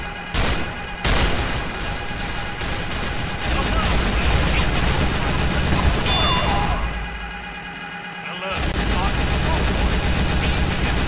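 Rapid ray gun fire in a Roblox fighting game, loud bursts of zapping shots running almost continuously with a brief lull near the end, players talking over the action.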